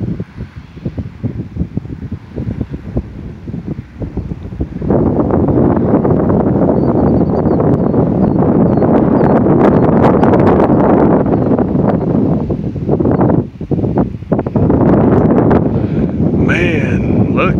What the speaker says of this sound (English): Yep, there's a gust to about 15 or so.